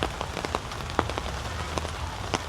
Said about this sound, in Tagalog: Kasi nag-uulan-ulan